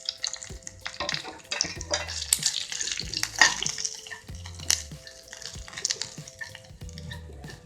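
Grated fresh coconut frying in a pan for a festival prasadam dish, soft sizzling broken by repeated scraping and clinking stirs, close and fairly quiet.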